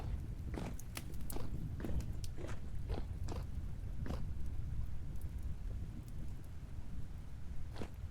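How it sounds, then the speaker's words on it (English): Faint footsteps outside in the video game Vintage Story: a loose run of soft, separate thuds at an irregular pace over a low background rumble, with no talking. "I heard footsteps outside."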